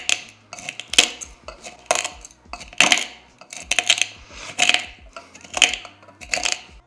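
Repeated bursts of crunching and rattling as hard coffee beans are crushed, irregular pulses with short pauses between, fairly close and moderately loud.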